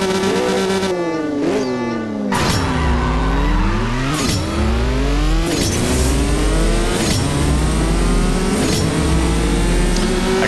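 A drag race in the CSR2 mobile game with a Corvette in the lineup: loud, close engine revs climb again and again through rising gear shifts, with crisp changes between them and a continuous roar that never lets up.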